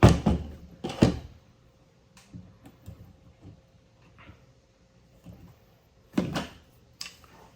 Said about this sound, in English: Next, we could remove our muzzle and the two barrel bands.